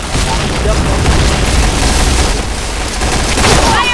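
A grenade blast in the shooter game Point Blank during a match, a dense loud burst of explosive noise mixed with gunfire that fills the whole moment, with faint voices underneath.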